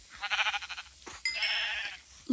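Sheep bleating in Minecraft Pocket Edition: two wavering bleats, the first a pulsing call and the second a longer, higher one after a short gap, clear and close with no talk.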